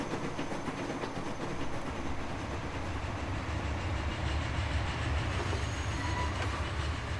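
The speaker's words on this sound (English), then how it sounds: "Let's take a look at this train." The Flying Scotsman steam train running in the Transport Fever video game, a steady rumbling roll with faint clickety-clack of wheels, continuous and moderately loud with no talk.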